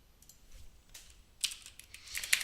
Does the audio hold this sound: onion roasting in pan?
no